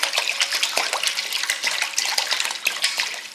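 Water is poured into a pot as the first step in preparing pig feet for soaking in water and vinegar. It makes a continuous splashing, gurgling stream, close and fairly loud, with no speech.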